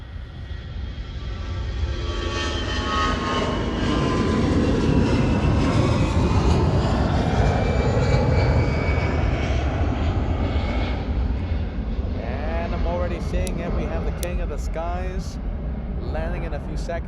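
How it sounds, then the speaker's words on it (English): A Lufthansa jet airliner bound for Athens takes off at Munich airport, a loud, broad engine roar that builds and swells continuously, with a voice talking over it near the end. "Lufthansa 750 flying to Athens."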